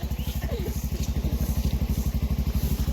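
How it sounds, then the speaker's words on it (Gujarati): An auto-rickshaw engine runs close by on a rain-damaged village road near a flooded culvert, chugging in a fast, even, steady rhythm throughout. "જોઈ લો અમારી આ રિક્ષા છે"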